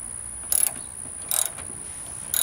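A ratchet wrench cranks a 10mm bolt tight against the steel wall of a shipping container home, making three short bursts of rapid metallic clicking over a steady high whine and background hiss.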